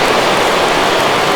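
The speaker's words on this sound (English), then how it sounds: "we've mentioned the conditions aren't ideal with the rain coming down" Steady rain pours down over a ballpark during a baseball game in MLB The Show 21, a dense, even hiss that stays loud and unbroken from start to finish, with no voices over it.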